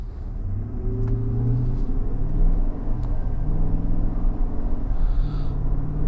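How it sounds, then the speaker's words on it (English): A 2025 GMC Yukon Denali with its 6.2-liter V8 pulls away on the road, the engine rumbling steadily and rising under acceleration, close and continuous, with no talking. "see if this V8 is still as smooth but also powerful."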